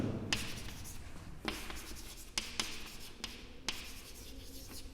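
Marker or chalk writing on a classroom board during an algebra lesson, steady scratchy strokes with several sharp taps as pen meets board, close and moderately loud with no speech.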